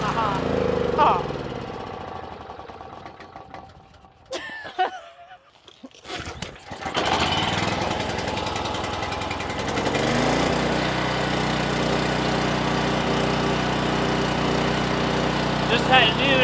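A Yamaha gas engine, choked for starting, sputters briefly, goes quiet, then catches and runs with a steady loud mechanical drone that continues to the end.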